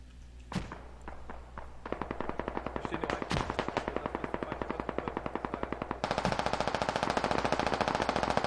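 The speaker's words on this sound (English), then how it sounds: "Oh, the Saw Gunner PKP battle." Rapid automatic bursts from a PKP machine gun in a video game battle, several sustained volleys of evenly spaced shots, loud and close, with a denser, brighter stretch of fire near the end.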